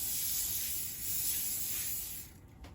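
A steady cooking oil spray can hisses for about two seconds, then stops, followed by a faint click and quiet room noise.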